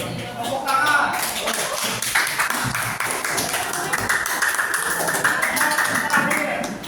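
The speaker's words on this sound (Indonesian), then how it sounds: "tepuk tangan" Classroom applause after a group presentation in a history lesson, a burst of close, uneven hand clapping from students that starts after a second and continues steadily, with voices chattering underneath.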